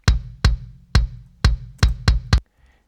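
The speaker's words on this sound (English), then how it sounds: "And on its own, the kick in mic sounds like this." Pop punk kick drum through the inside mic with a midrange EQ boost, six punchy, clicky hits in an uneven rhythm, close and dry, with nothing else playing.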